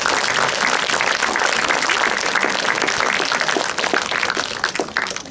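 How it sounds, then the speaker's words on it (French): Conference audience applauding a speaker, with dense, loud clapping from many hands that runs steadily and thins slightly toward the end. "il nous reste à remercier chaleureusement M. Delair en l'applaudissant évidemment."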